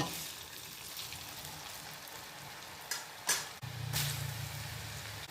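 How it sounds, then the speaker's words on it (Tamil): Rice flour murukku frying in hot oil makes a quiet, steady bubbling sizzle, broken by a few sharp knocks and scrapes of a utensil near the pan. "இப்போ சூடான எண்ணெயில் இதை போட்டு ஃப்ரை பண்ணி எடுத்துடலாம்"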